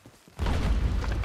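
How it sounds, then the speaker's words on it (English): A thrown stick of dynamite goes off in a sudden loud blast after a quiet moment, followed by a sustained rumbling roar. "The photography man just threw a stick of dynamite at me."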